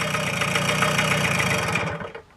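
A Romet Ogar 200 moped engine runs with a rough, uneven mid-pitched putter close by, then sputters and dies out near the end, leaving near silence.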